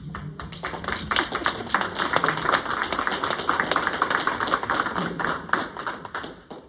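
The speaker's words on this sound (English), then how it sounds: "Hey, you're finally getting applause." Applause and clapping from an audience at a disability services learning and development event, a dense steady patter of many hands that stays loud throughout and fades slightly at the end.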